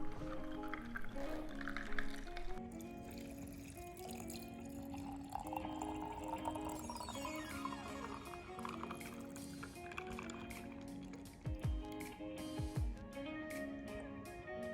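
Boba milk tea being poured into a cup, a steady liquid fill running under background music throughout, with a few brief louder knocks near the end.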